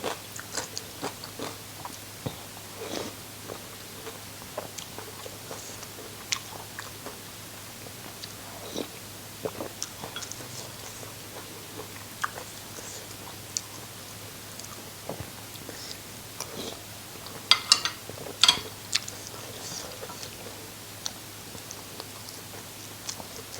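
Someone eating a meal of three dishes chews and bites close to the microphone, with irregular crunchy, wet chewing sounds over a quiet steady hum and no speech.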